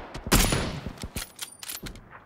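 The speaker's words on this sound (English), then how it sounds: "We're being shot by two groups." Rapid gunfire from several weapons in PlayerUnknown's Battlegrounds during a squad firefight, a loud opening volley followed by repeated close shots and short bursts over about two seconds.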